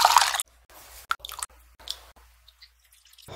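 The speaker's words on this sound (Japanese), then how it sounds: "こす。" Cooled chicken broth being poured through a strainer, a wet splashing pour at the start followed by scattered soft squishes and a few faint drips in near silence.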